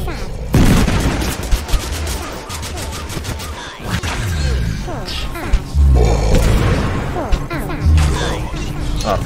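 Grenade blasts in the battle royale game Totally Accurate Battlegrounds: heavy booming explosions and crashing impacts land repeatedly over several seconds, mixed with bursts of rapid gunfire, while a player talks over the action.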